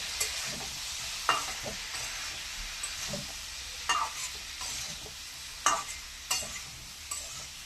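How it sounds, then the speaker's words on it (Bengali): A dish seasoned with 12-spice powder is stir-fried in a pan: a quiet, even sizzle runs throughout while a spatula scrapes and knocks against the pan in irregular strokes, close by, with no voices. "এবার এটাকে ভালোভাবে কষিয়ে নিব।"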